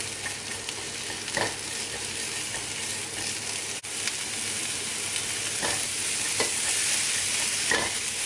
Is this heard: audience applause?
no